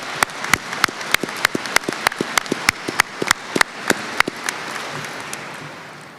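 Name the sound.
applause for the event organizers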